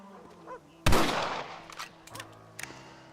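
A single loud rifle gunshot in Red Dead Redemption, a sharp close crack followed by a decaying echo, then a few faint clicks and a small snap against a quiet background.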